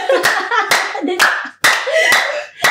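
A small studio group applauds during a home-shopping segment, with about six loud, sharp clapping bursts in an uneven rhythm. Voices may be mixed in.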